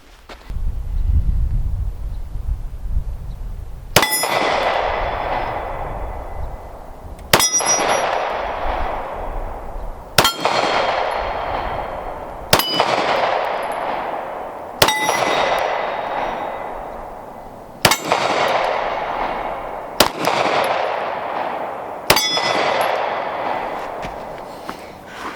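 A Kimber Carbon Compact pistol fires seven loud shots a few seconds apart, each with a sharp crack followed by the long metallic ring of a struck steel target, heard up close with no talking.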